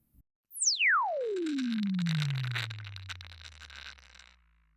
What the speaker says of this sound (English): If you listen carefully, you should be able to hear the transient distortion.